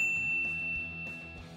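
A single bright notification bell ding rings out clearly and then decays with a sustained metallic tone, with no voices present.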